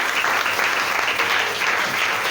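A church congregation claps together in sustained, dense applause that stays loud and steady throughout, with no break and no voices standing out.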